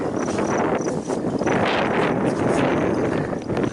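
Steady wind gusting through a permaculture orchard of plum trees, currant bushes and a yellow pea tree, a loud broadband roar buffeting the microphone throughout with constant rustling.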